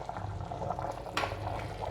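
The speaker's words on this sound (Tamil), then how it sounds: "குழம்பு இது கொதிச்சிட்டு இருக்குது" Mutton curry bubbles steadily in a pot after ground roasted masala has been stirred in, a continuous close simmering burble with one brief splash partway through.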